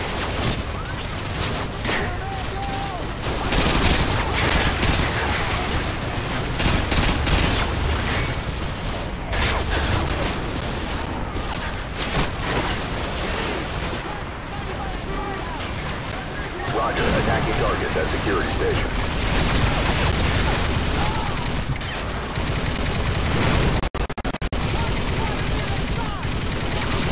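Sustained, dense gunfire in the video game Exodus aimed at a sentry gun: loud, rapid automatic bursts and booms rattle almost without pause, with only a few brief gaps in the barrage.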